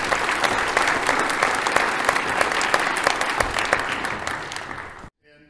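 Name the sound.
audience applause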